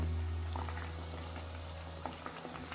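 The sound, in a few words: potatoes frying in oil for butterfly chicken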